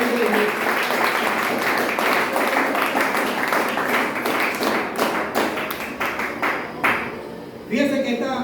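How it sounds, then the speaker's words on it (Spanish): A church congregation claps during a Spanish-language sermon, with dense, steady applause and tapping sustained throughout, easing slightly near the end as a few louder individual claps stand out. "Si va a aplaudir al Señor, apláudale con gozo, con alegría y con gloria de Dios"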